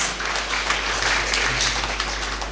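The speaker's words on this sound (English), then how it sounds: "An affable welcome to all of you gathered here with a big round of applause." An audience at a silver jubilee celebration of religious profession gives a sustained round of applause, dense and even throughout, heard from within the gathered crowd.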